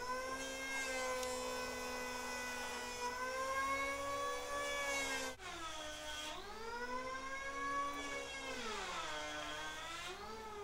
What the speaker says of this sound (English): we just take an electric hand plane, and we're going to knock these corners off until they all clear the lathe